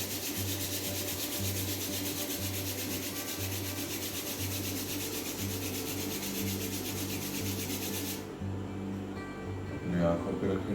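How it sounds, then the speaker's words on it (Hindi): Both palms rub briskly together in a steady, continuous friction hiss during a yoga session, close and fairly loud; the rubbing stops abruptly near the end, leaving a faint softer sound. "एक मिनट के बाद दोनों हाथों को रब करेंगे।"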